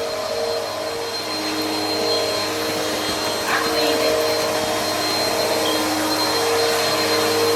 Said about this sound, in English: Can you please cut off the vacuum?